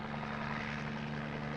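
A helicopter flies over remote drilling country, its steady, loud engine and rotor drone with a constant low hum filling the air throughout.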